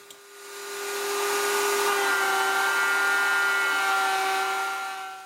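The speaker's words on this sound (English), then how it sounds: "now I can just run that router right along that straight edge and cut my dado" Electric router running steadily while cutting a dado along a clamped straight edge for storage shelves, a loud continuous high whine that spins up quickly and holds without talk.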